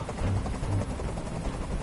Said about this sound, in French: Fais dégager cet hélicoptère, maintenant.